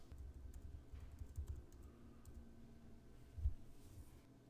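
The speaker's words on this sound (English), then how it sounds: "I'm going to rename it by typing what I want the title to be." Light typing on a computer keyboard, a quiet scatter of soft key clicks with one firmer keystroke near the end, close and faint over a low room hum.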